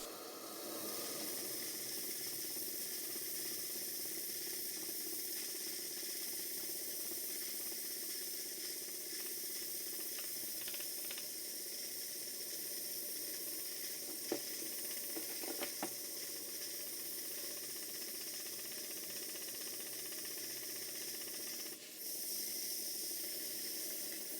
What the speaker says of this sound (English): This is a very robust design of engine, and I do like the way that the oscillating cylinders are held against the port face.